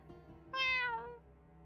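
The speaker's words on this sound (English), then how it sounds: "This is our cat, Leith." A house cat gives a single clear, rising-then-falling meow, close and distinct over a quiet, faintly humming background, no speech.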